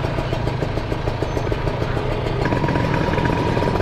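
Two-stroke motorcycle engine running in Bandung, a steady buzzing, raspy drone held close and loud throughout with no talk.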